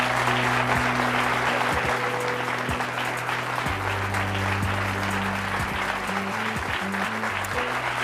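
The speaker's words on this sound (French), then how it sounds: "les applaudir" A television studio audience applauds as guests walk on, a full, steady wash of clapping with a low musical hum underneath, sustained throughout.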